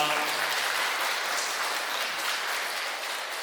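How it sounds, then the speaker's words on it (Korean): An audience at a talk concert applauds, a dense, steady patter of many hands clapping that fades slightly toward the end. "우리 기자님께 큰 박수 부탁드립니다."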